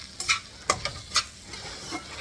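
Gram flour (besan) roasting in a pan over low to medium heat, a soft background sizzle broken by a few sharp scrapes and clicks of stirring at close range.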